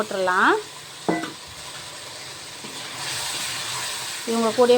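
Pudina rice masala with tofu and green chillies simmers in a pan, giving a soft, steady sizzling hiss. A voice talks over the start and end.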